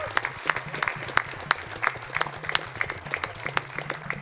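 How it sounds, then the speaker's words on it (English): An audience at a charity speedrunning marathon applauds, many hands clapping in a dense, steady patter of moderate loudness that carries on through the whole moment. "An extra round of applause for Zeta"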